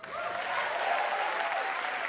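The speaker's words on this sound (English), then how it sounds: "Clap if you use Craigslist." A comedy club audience bursts into applause, and dense clapping holds at a steady, fairly loud level for about two seconds.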